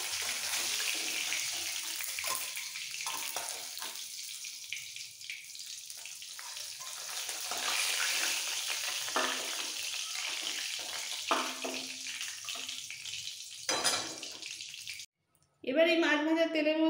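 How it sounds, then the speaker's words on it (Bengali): Pieces of hilsa fish fry in hot oil, a continuous sizzling hiss that swells and eases, with occasional utensil clinks and a brief gap before a louder burst at the end. "মাছের দুটো পিঠই কড়া করে ভেজে নিতে হবে।"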